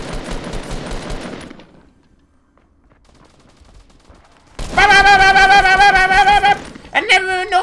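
Fortnite Battle Royale gunfire at Tilted Towers: a dense, rapid burst of shots opens, then a near-silent lull, then a loud, sustained buzzing weapon blast that cuts off and stutters at the end.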